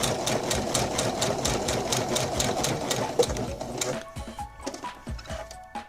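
A sewing machine stitching the hem of a chiffon formal dress, a rapid rhythmic mechanical chatter close and steady for several seconds, then slowing into slower separate thumps as it winds down, no talking.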